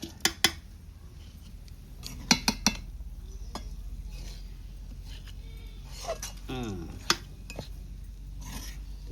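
Rice, lentils and vegetables for vegetable khichuri get scraped with a spatula from a wok into a cooking pot, giving scattered clinks and scrapes of metal on metal over a low steady background hum.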